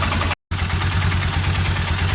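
A Bear Tracker 250 ATV with a PZ30 carburetor conversion idles with a loud, steady, even engine drone close by, cut by one very short dropout near the start.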